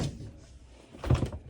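The door of a run-down, inexpensive RV under repair is pushed shut, landing as a dull thunk near the end after soft rustling.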